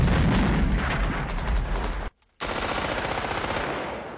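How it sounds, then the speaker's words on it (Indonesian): Dense machine-gun bursts and rocket blasts strike a building in a 1987 Vietnam War film battle, loud and rapid, cut by a brief silent gap before the heavy firing resumes to the end. "mereka pun langsung membrodol gedung itu dengan tembakan dan rudal"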